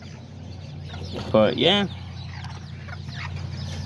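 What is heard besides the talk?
Aztecas chickens clucking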